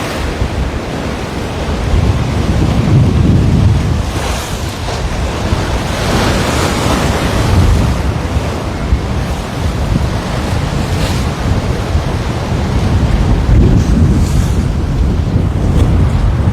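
Ocean surf rolls and breaks along the Waikiki shoreline, a steady broadband roar with swells building and easing, while gusty wind buffets the microphone with low rumble throughout; no voices.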